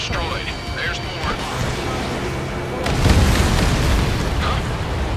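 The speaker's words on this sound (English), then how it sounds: "Missile hit. Careful, the enemy has a lot. Enemy transport destroyed." Missile explosions destroying enemy transports in the flight combat game Ace Combat 7: rumbling booms with a heavier blast partway through, set against a dense, continuous game soundscape.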